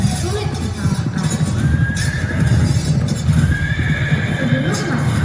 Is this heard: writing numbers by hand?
no